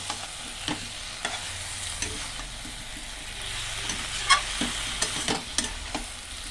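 Spice paste frying and being stirred in a hot pan for a shrimp and jackfruit dish, a steady sizzle broken by repeated scraping stirs and brief clatters, close and moderately loud with no talking.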